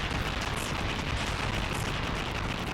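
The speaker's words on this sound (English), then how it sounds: "those explosion sound effects sound a little crunchy" Harsh, distorted explosion sounds from Sin and Punishment: Star Successor on a slow emulator boom in quick succession, grainy and crackling like glitchy game audio.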